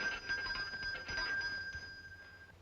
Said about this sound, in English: Sounded like a bell coming from somewhere.